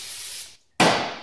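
Two short close bursts of aerosol cleaner sprayed onto a 4L60E transmission pressure regulator valve, a loud hiss, a brief gap, then a stronger hiss.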